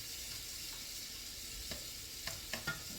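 Food frying in a home kitchen pan gives a steady sizzle with a few sharp pops near the end, fairly quiet and with no talking.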